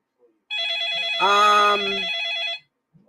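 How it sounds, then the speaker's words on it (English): A telephone rings with one sustained, warbling electronic tone lasting about two seconds, close and clear, and a brief voice-like tone overlaps the middle of the ring. "Let me answer the phone."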